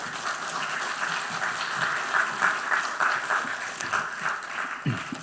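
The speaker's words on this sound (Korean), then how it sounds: "나오실 때 박수로 환영하겠습니다." A church congregation claps to welcome a guest missionary from Tanzania during a Sunday service, steady and dense applause across the whole stretch with a low bump near the end.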